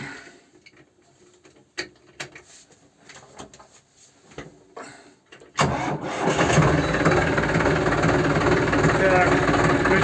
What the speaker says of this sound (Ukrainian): Включаємо вал отбора. Запускаємо той агрегат.